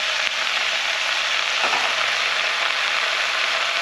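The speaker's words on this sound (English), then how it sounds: "I'm going to add my tin of tomatoes." Canned tomatoes hit a hot frying pan and set off a continuous, loud sizzle with a brief soft thud partway through, heard up close with no voices.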